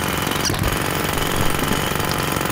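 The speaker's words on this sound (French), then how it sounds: "Si je peux vous montrer le marteau piqueur" A jackhammer in the video game Demolition Company pounds steadily and loudly, breaking up a building in a continuous, dense rattling stream.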